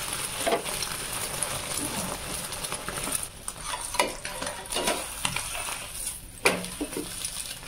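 Eggs frying in oil on a tawa, with a steady sizzle and occasional scraping and clinking as a utensil stirs, close and moderately loud with no speech.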